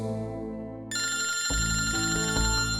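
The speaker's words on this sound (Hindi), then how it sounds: "अरे तुम्हारा फोन बज रहा है।" A phone rings indoors with a steady electronic ringtone, a bright repeating tone that switches to a louder, fuller pattern partway through, continuing for a few seconds without any voices.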